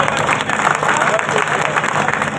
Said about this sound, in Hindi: ताली बजा दीजिए जरा सर के लिए।